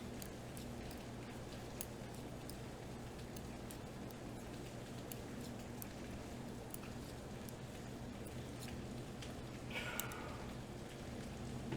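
Steady rain falls outside, heard from indoors as an even, soft hiss that lasts throughout, with no voices.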